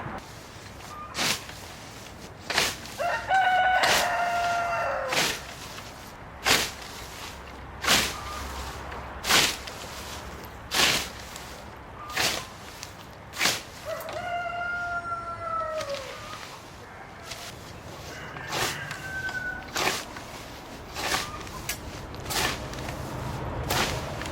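On a farm, a rooster gives a couple of drawn-out crows amid repeated sharp snapping thuds spaced every second or two, with softer clucking in between.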